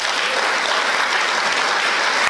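A studio audience at the Dutch talk show Operatie Interview gives a dense, steady round of applause welcoming guest Guus Hiddink, loud and sustained throughout without letting up.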